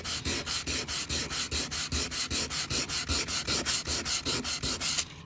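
Hand sanding with sandpaper: close, steady back-and-forth strokes in an even rhythm of roughly four per second, a dry scratchy rasp that runs alone without pause.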